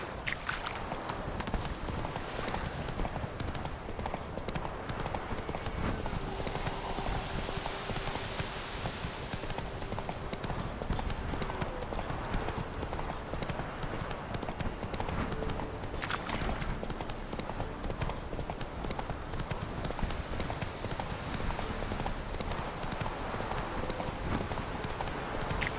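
Hooves of the horse Roach drum in a fast, steady galloping clip-clop on the ground in The Witcher 3 video game, close and continuous, with faint game ambience beneath them.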